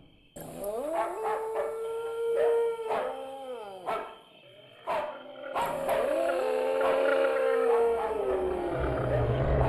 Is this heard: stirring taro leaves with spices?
no